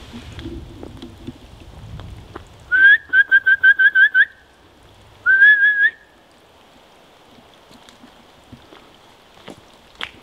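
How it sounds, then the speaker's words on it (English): A person whistles at a deer, a quick run of about eight short notes, pauses, then gives one longer rising whistle over quiet outdoor background in the woods of a military training ground. "I was whistling at it"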